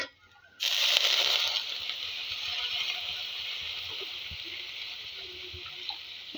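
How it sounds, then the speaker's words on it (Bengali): Water poured into a pan of fried spice mixture for an egg curry hits the hot oil with a sudden loud hiss and sizzle that stays strong for a moment, then settles into a steady, slowly fading crackle. "পরিমাণ মতো জল দিয়ে দেবো"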